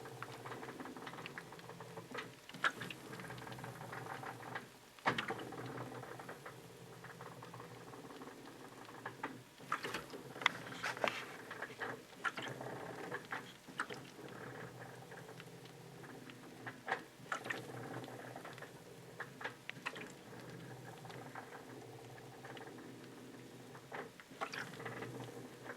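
A GE washing machine, model GTWN 4250, syncs its tub and agitator before a soak: quiet irregular clicks, ticks and soft pattering knocks, with a few sharper thumps, sounding alone at low volume.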